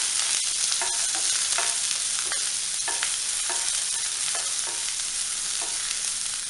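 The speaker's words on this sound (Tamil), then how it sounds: "கொஞ்சம் கருவேப்பிலை போட்டு எல்லாம் நம்ம கலந்து விட்டு கொஞ்சம் வதக்கிக்கலாம்" Onion and curry leaves sautéing in a pan for tomato rice, with a steady bright sizzle and a few soft stirring scrapes recurring through the stretch, close and alone with no voices.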